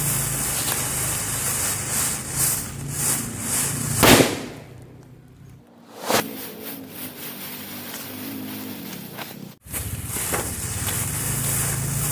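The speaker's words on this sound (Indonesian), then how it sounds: "Selanjutnya kita cobain petasan Happy Flower." A Happy Flower firecracker fizzes and hisses loudly, then bursts with sharp cracks and crackling, followed by a brief quiet and more sputtering spray, set off in daytime.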